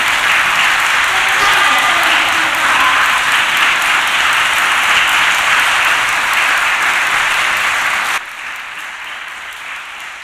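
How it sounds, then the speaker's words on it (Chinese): Loud, dense applause from a concert audience welcoming an organ soloist at a church recital, sustained and close for several seconds before dropping abruptly to a quieter level. "我们大家一起鼓掌欢迎今天晚上音乐家好不好？"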